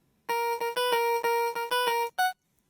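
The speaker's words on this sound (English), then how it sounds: "this is the processing for that little guitar send that's pitched up" Pitched-up guitar send in a hyperpop beat, run through a pitch shifter and bit crusher, gives a bright, buzzy, stuttering run of short choppy notes with a brief final hit, played alone without voices.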